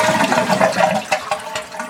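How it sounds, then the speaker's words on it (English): A toilet flushing with the handle held open so the tank drains, water rushing and gurgling loudly and close for the whole moment. "we'll give it a flush"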